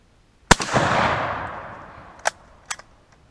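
A single sharp AK47 rifle shot cracks close by outdoors, followed by a long rolling echo that fades over about two seconds, then a couple of small clicks.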